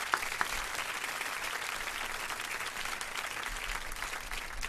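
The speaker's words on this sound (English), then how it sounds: "I want to give you an official Black Westchester round of applause" A small radio studio audience claps for a guest, a former commissioner. The applause is steady and fairly close, with a few sharper individual claps near the start and no break until the end.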